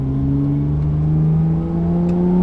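Honda Accord V6 with an aggressive aftermarket exhaust heard from inside the cabin while cruising, a steady low drone with a faint rising pitch and no talking.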